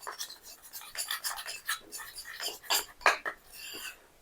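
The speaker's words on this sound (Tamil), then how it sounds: "இப்ப பாருங்க நல்லா ஃபைனா கட்டிகள்லாம் இல்லாம நல்லா மிக்ஸ் பண்ணிடலாம்." Herbal curry-leaf hair dye powder with indigo being stirred into a smooth paste in a bowl, soft close scraping and rubbing strokes in an uneven rhythm, no talking.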